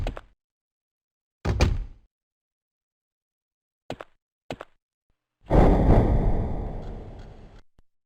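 Heavy door thuds shut and locks in the video game Hellboy: Asylum Seeker, a few separate clunks and knocks spaced out over several seconds, then a longer, louder rumbling swell near the end.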